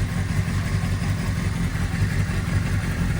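Honda CBR600RR inline-four motorcycle engine idling close by, a steady low rumble with a busy, even mechanical patter and no speech over it.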